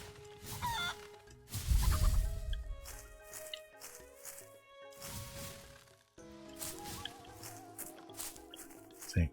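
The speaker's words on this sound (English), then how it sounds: "Oh, chickens." Chickens cluck in the fantasy warfare game Empire of Ember, short faint calls mixed with thuds and a music-like game soundtrack, with a voice talking briefly.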